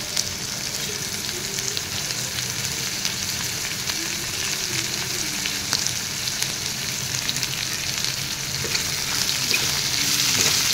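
Bitter gourd fries with onions in a pan for an Assamese fish curry, a steady close sizzle broken by repeated scraping stirs of a spatula, and no one speaking.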